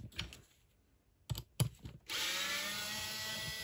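Screwdriver working loose tight screws on an IKEA air quality sensor: a few sharp clicks and creaks up close, then a steady hiss-like scraping to the end.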